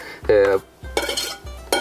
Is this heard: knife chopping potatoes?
yes